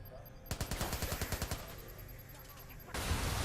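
Video game gunfire from Watch Dogs aimed at a car: a rapid burst of about a dozen sharp automatic shots for roughly a second, then a steady noisy rush with no talking over it.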